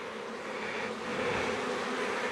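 Honey bees hum in a dense, continuous drone from an open hive during a queen cell check, close and moderately quiet, swelling slightly louder partway through.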